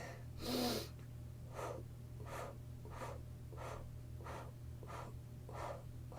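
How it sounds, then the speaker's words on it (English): Segmented breath exhales through the mouth during a breathing meditation: after one longer blow, seven short, evenly spaced sniffs or puffs follow in a steady rhythm, close and clear, with no talking. "We're going to exhale through the mouth and 8 sniffs or 8 blows, like so."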